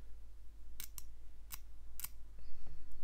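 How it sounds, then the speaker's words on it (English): A hobby knife with a fresh blade trims a plastic part from a Ryefield Challenger 2 TES model kit. Four or five sharp, brief cutting clicks and snips sound close by and fairly faint, with no talking. "I'll just use the knife here. I got a new blade on this."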